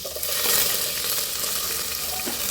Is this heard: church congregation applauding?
no